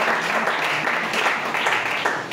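A church congregation claps continuously in dense, even applause with mixed cheering voices, filling the room without a break.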